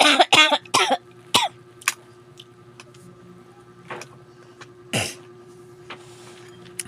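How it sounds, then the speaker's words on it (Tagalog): Several sharp coughs burst out close by near the start, followed by more isolated coughs spaced out over a quiet room with a steady low hum in the background. "May ubo ako."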